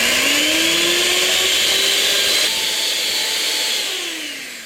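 An electric mixer whips egg whites with cream of tartar, a loud, close, continuous motor whine whose pitch rises and drops slightly as the beaters work, fading a little toward the end.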